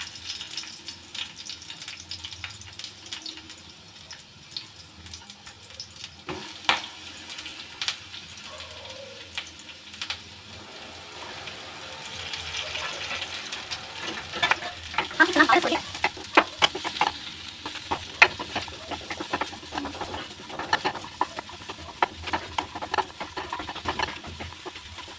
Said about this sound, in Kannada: ಪ್ಯಾನಿಗೆ ಆಯಿಲ್ ಹಾಕಿದ್ದೀವಿ. ಆಯಿಲ್ ಕಾಯ್ದಿದೆ. ಇವಾಗ ಹೆಚ್ಚಿಟ್ಕೊಂಡಿರೋಂಥ ಈರುಳ್ಳಿ ಹಾಕ್ಕೊಳ್ಳಿ.